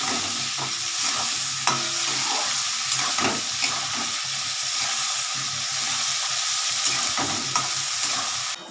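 Potatoes, onions and crushed garlic fry in a wok with a steady, loud sizzle, while a spoon scrapes and taps the pan now and then.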